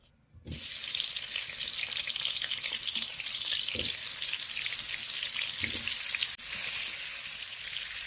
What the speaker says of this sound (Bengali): কড়াই তেল দিয়ে দিয়েছি তেল গরম হয়ে গেছে এবার একে একে আলু আর পেঁপেগুলো কড়াই দিয়ে দেব